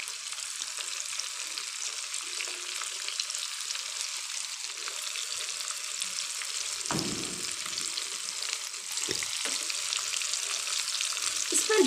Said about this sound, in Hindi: इसको हमने मीडियम फ्लेम पे फ्राई करना है।